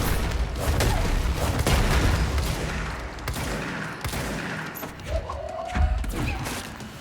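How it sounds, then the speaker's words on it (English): Gunfire and explosions in the video game Control, with dense rapid chain-gun fire and thudding booms in an ongoing battle, loud and close throughout. "Chain gun effect"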